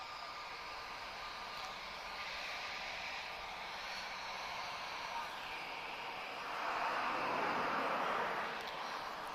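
Distant Emirates airliner arriving from Dubai at Lisbon Airport, a steady broadband jet roar that swells briefly louder toward the end, with no talk over it.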